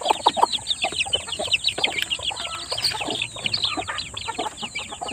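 Young gamefowl chicks bred for fighting, including blue-legged Boston and Hatch Grey crosses, cluck and peep continuously in a close, busy chorus of rapid overlapping calls with no talk.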